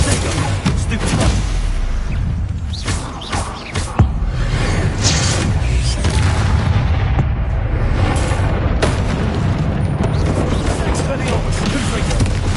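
Confringo spell explosions in Hogwarts Legacy, set off during a cavern duel: loud, repeated booming blasts and crackling bursts in a dense barrage, with voices casting spells over them.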